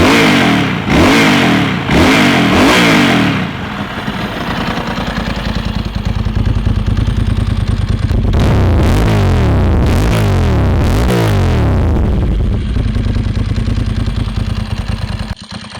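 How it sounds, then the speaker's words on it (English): A Ducati 916 motorcycle engine blips through several sharp revs up close, settles into a loud lumpy idle, then revs hard again a few times before easing back to idle. "I hope I'm able to capture what this actually sounds like in person, but it's a really weird bike to record"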